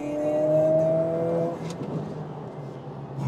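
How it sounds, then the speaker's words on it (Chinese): A Mercedes-AMG CLA 45 S 4MATIC+ Coupé with a 2.0-litre turbo, in Sport Plus at full throttle out of a bend, gives a loud rising engine howl from inside the cabin that cuts off sharply after about a second and a half, leaving road and tyre noise. "现在全油门，哇，一小段路它的加速马上就从60加到100啊。"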